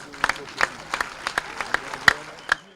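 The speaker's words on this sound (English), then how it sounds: "I think you deserve a round of applause." Scattered, uneven hand claps greet West Ham United officials visiting the Igwe of Nnewi in Nigeria alongside FC Ifeanyi Ubah, a dozen or so sharp claps spread across a few seconds rather than a full ovation.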